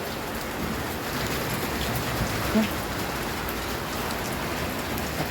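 Heavy April rain pours down steadily in a dense, unbroken hiss, loud and close, with no voices over it.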